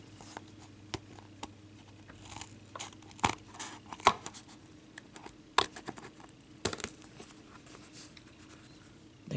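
Scissors cutting cardboard for photo ornaments, a run of small crisp snips and clicks, close and fairly quiet, no talk.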